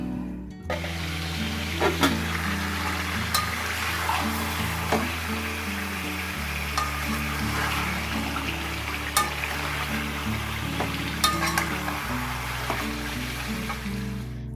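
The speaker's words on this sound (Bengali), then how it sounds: "কড়াইতে চিকেনটা তেলের মধ্যে দিয়ে একটু ভাজা ভাজা করে নিলাম" Chicken pieces fry in oil in a wok with a continuous, moderately loud sizzle. Sharp utensil clinks and stirring noises sound at intervals over a steady low hum from the kitchen, with no voices.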